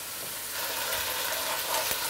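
Veal seared in a hot pan while being turned, giving a steady close sizzle with a slight swell partway through.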